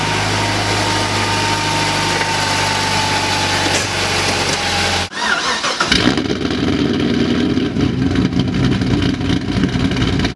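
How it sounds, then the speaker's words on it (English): A Pontiac GTO with an LSA engine and newly repaired exhaust hums, then cuts out abruptly and restarts. It settles into a loud, close, lumpy idle with a throaty exhaust rumble. "I'm gonna start up the GTO for you guys so you guys could hear how much better it sounds"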